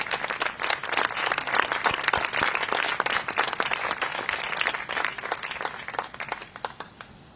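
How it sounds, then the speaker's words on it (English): A room full of people gives a sustained round of applause for a county commissioner at an education funding advocacy event, dense overlapping clapping holding steady before tapering off at the end. "let's give you a round of applause as you come forward"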